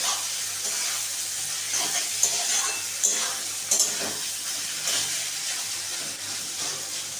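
Fried potatoes stirred into a banana blossom curry in a pan, a constant hissing sizzle with soft scraping strokes and a few light clinks, close and fairly loud, no voices.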